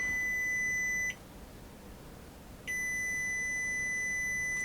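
A multimeter's continuity tester gives a steady high-pitched electronic tone while probing a short circuit in the power supply of a Grundig VS-680 VPT S-VHS video recorder; the tone cuts out briefly and then returns, loud and close.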